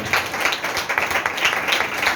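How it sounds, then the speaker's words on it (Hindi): An audience at a church sermon applauds together, a steady, fairly loud patter of many hands clapping for about two seconds with no voice over it. "खुशी से जरा ताली बजाएं एक दफा, चेहरों पे स्माइल रखते हुए।"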